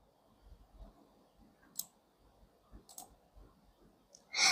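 Computer mouse clicks, three sharp isolated taps spaced about a second apart, close and crisp against a quiet background, with a louder rustling burst at the very end.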